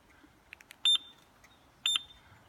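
Ducati 998S motorcycle alarm arming with two short electronic bleeps about a second apart, clear and close in an otherwise quiet setting.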